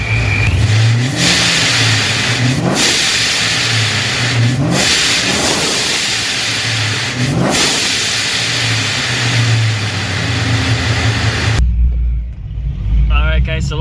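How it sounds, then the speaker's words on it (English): A car engine fitted with a Procharger Big Red blow-off valve revs repeatedly, each rise followed by a sharp hiss of released air, loud and close, before the noise cuts off abruptly and a voice speaks. "I'm going to give it some revs and show you guys how it sounds like with it open and closed"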